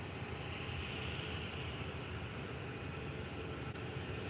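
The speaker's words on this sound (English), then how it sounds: "So here goes now taking off a Ryanair 737 MAX" A Ryanair Boeing 737 MAX 8 taking off from Faro Airport in the early morning, a faint, distant and steady engine roar holding even throughout.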